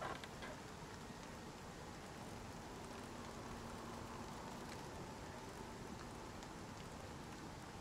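Steady rain pours down in the survival game Icarus as it puts out a fire, a faint, even wash of drops with no other sounds.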